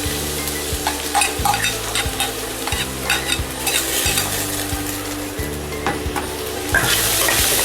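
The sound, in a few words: onions frying and being stirred in masala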